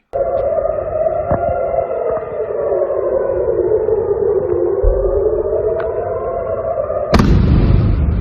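An air raid siren in Israel during missile attacks wails loudly and steadily with a slow, wavering pitch, then a sudden sharp blast or bang breaks in near the end.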